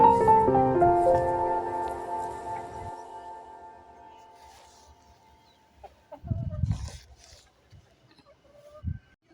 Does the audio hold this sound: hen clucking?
yes